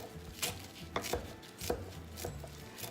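A knife chops celery on a cutting board, several quick, uneven thuds spread across the moment, close and crisp, with no talking.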